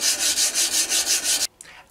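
Steady back-and-forth sanding strokes on a forged nakiri cleaver knife, about eight rhythmic rasping passes, loud and close, then stopping abruptly with a brief quieter scrape.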